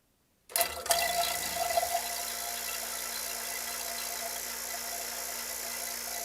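A vacuum pump on a high vacuum experiment kit starts abruptly with a clattering burst, then settles into a steady, loud mechanical hum and whir that runs on continuously and close by.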